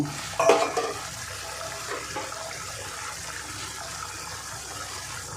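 Rohu fish pieces dropped into a thickened curry, a brief wet splash and burst of sizzling near the start that settles into a steady, close simmering hiss.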